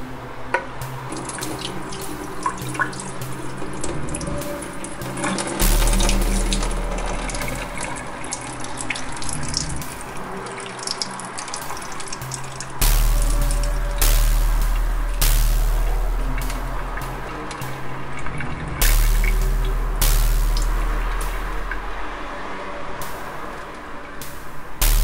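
Masoor dal lentils being rinsed by hand under a running kitchen tap into a sink, a steady loud splash of flowing water with small shifts as the lentils are stirred, no talking.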